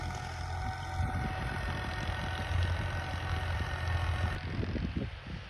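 A farm tractor's engine runs steadily in a wheat field, a low continuous rumble with some wind noise, moderately distant and unbroken throughout.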